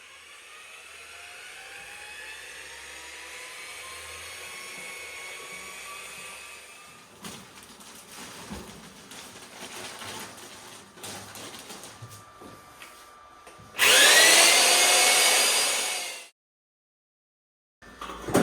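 A mixing drill with a paddle churns board adhesive, a loud steady whir bursting in for a few seconds after a stretch of quieter rattling and background noise, then cutting off abruptly.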